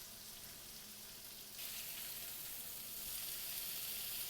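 Sweet potato home fries fry undisturbed in a pan, a faint, steady hiss that grows a little brighter partway through, with no talking.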